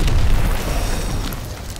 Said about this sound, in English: I'm going to fire a rocket at the camera